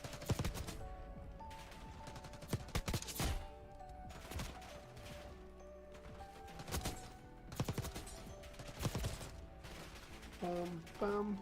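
Rapid bursts of gunfire ring out in a Black Ops 6 ranked match, with clustered shots, single cracks and automatic fire, fairly quiet overall and mixed with game sounds.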